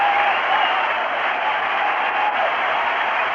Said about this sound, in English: And you hear the crowd